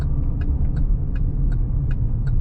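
A car driving on a foggy road in Florida, heard from inside as a steady low engine and road rumble with a faint regular ticking repeating about every third of a second.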